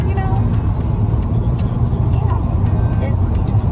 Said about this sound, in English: We are currently in a car.